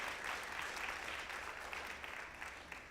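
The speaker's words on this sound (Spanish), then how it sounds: "Si alguien lo cree, que lo celebre conmigo con un aplauso fuerte." A church congregation claps after the preacher's call for loud applause, producing a fairly faint, even, continuous patter of many hands with no talking.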